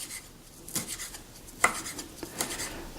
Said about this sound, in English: So we're just mincing this.